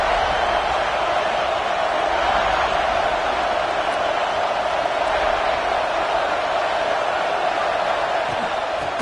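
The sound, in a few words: stadium crowd roaring at a college football game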